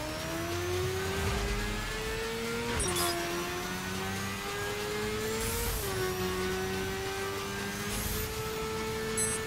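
A 2015 BMW S1000RR motorcycle accelerating in the racing video game The Crew, its engine holding a steady high whine that dips briefly at gear shifts and climbs again, continuous and fairly loud with no talking.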